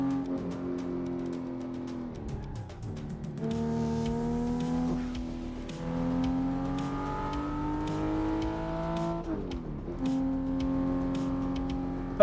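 A car is driven in the Assetto Corsa sim racing game on the Shuto expressway, played at a home setup; the engine revs up and down through repeated gear changes, rising and falling in pitch, loud and continuous, with no talking.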